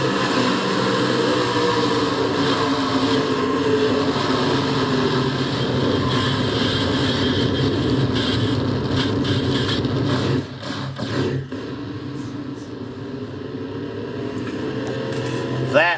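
A NASCAR race car engine in the Castrol GTX Cup video game race, heard onboard as a loud, continuous roaring drone that dips briefly partway through and then resumes.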